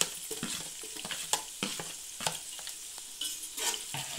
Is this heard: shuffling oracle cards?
no